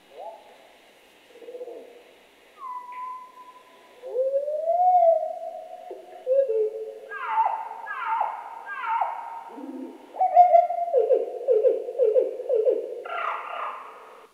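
A nightingale's song in Europe, slowed to a fifth of its speed, unfolds as deep, drawn-out whistles and falling, repeated notes in successive phrases, clear and alone with no talking.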